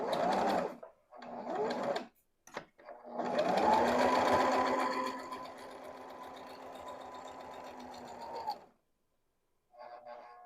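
A Brother XL-2600 sewing machine runs in a few short stitching bursts, then a longer steady whirring run of several seconds before stopping, with a brief final burst after a pause; close and fairly quiet.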